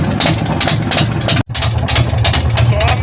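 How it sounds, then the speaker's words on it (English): An engine with exhaust-wrapped pipes idles steadily while warming up, a continuous low rumble at close range with a brief dropout midway. "I'm going to let the engine get hot."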